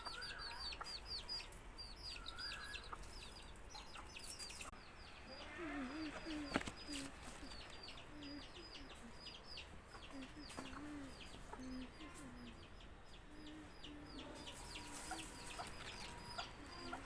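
Chickens cluck softly and intermittently in a rural yard at dusk, close by, with birds chirping around them over a steady outdoor hum.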